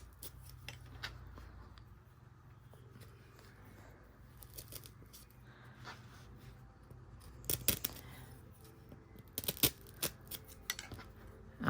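Scissors snip wool for a cone-based wool tree, quiet irregular clicks at first, then sharper close cuts bunching together toward the end.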